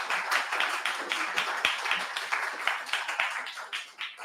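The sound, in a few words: audience applause for panel guests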